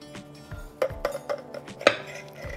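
A spoon cuts through potato zrazy filled with meat on a dish, producing a handful of sharp metallic clinks and taps against the plate, spaced irregularly, with no talking.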